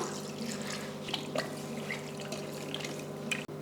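Water trickles into a pot of country chicken curry seasoned with ginger-garlic paste, coriander powder and salt. Quiet drips and a soft, thin pour sound close by with no talking.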